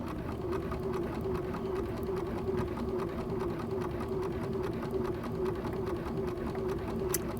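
A Bernina 570 sewing machine with dual feed stitches fabric seams, a steady close mechanical whir running continuously with no pauses.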